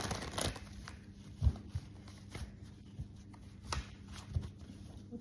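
Tarot cards are shuffled and drawn in quiet, scattered bursts of soft papery flicks and rustles, close by and faint, with short pauses between.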